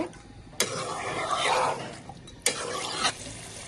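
Duck curry being stirred in a pan after salt goes in, with a steady sizzle and scraping of the spoon swelling and fading, plus two sharp knocks against the pan.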